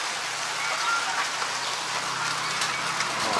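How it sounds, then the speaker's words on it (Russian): Steady rain hissing down on surfaces nearby, a constant wash of patter with a faint low hum underneath. "Пошел дождь."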